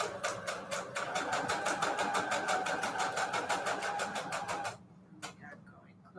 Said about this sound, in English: I'm just gonna do a straight stitch all the way around